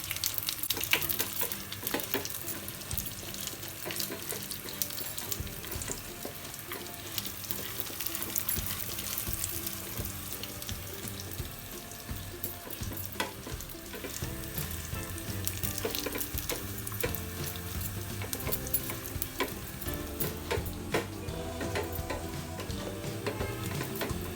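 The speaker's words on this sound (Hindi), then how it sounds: "फिर डाले हमने काजू, फिर पिस्ता और हमने इसे रोस्ट करना शुरू किया" Cashews and pistachios, after almonds, roasting in a pan on a gas stove for sweet Eid sevaiyan, giving a steady close sizzle with light stirring and clinking throughout, no talking.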